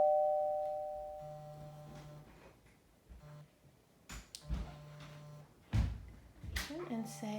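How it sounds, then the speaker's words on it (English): A Helidallr WiFi video doorbell camera rings with clear electronic chime tones, followed by several short beeps, knocks and handling clatter close by. "let my little kiddo give our new doorbell a try"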